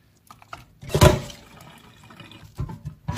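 Water splashes and runs as seitan dough is washed, with a burst of pouring and sloshing followed by softer trickles and a few short splashes, close and without talk.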